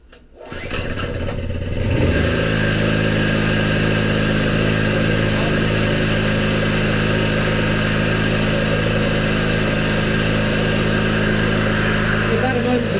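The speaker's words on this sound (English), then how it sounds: "Let's start the engine and warm it up." A small engine cranks briefly, catches and settles into a steady, loud idle that keeps running evenly with no one speaking.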